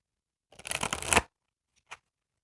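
Angel oracle cards being shuffled, one quick close riffling burst lasting under a second, then a single faint soft tap, otherwise quiet.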